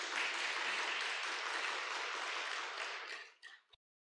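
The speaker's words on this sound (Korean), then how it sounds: "격려의 박수 좀 부탁드리겠습니다" A church congregation applauds in encouragement, a steady dense patter of many hands that holds for a few seconds, then tapers off with a few last claps.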